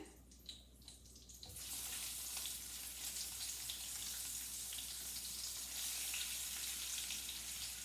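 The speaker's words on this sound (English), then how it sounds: "When the mustard seeds and cumin seeds pops up, I will put the onion." Onion drops into hot oil with popping mustard and cumin seeds, a quieter sputter giving way to a sudden, sustained hiss of sizzling that stays steady and fairly loud.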